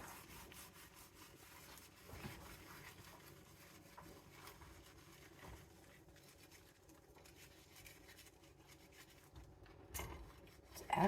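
A stove top being scrubbed during cleaning, quiet repeated rubbing strokes with a few louder scrapes, close by, and no voices.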